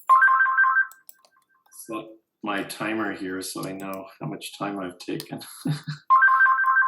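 A phone ringtone chirps in repeated two-tone bursts before and after someone speaks at a public meeting, the ringing loud and close, then stopping while he talks and returning at the end.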